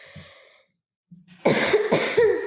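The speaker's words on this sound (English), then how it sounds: "It's like I need to clear my throat." A person coughs hard several times in close succession, loud and near, after a brief quiet pause with a faint throat-clearing sound.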